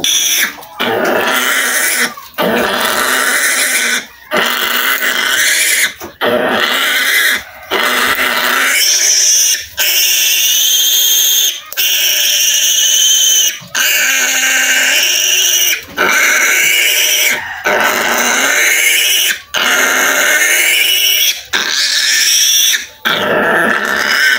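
Pigs grunt and squeal loudly and continuously at close range in a pen where a sow has just given birth, harsh repeated vocalizations broken by brief pauses.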